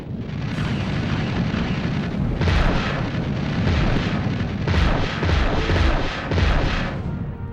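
Loud, continuous rumbling explosions from a destroyed enemy target in the PS1 space combat game Wing Commander III, with several heavy booming bursts rolling one after another.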